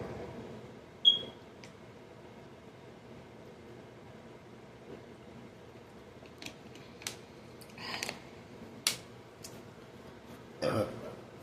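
A single short burp from a person, faint and brief, rises out of quiet room tone that also carries a few soft clicks and taps.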